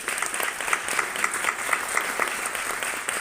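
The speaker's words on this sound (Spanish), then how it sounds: "Un aplauso, señores" Seated audience at a conference session on flamenco in Mallorca breaking into steady, moderately close applause with fast, dense clapping that holds evenly throughout.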